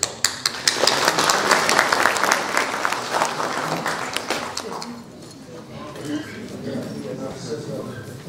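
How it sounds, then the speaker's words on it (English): Seminar audience applauding in a lecture hall, a dense burst of clapping that swells, then thins and fades over several seconds as a speaker's voice takes over. "Please come in under your applause."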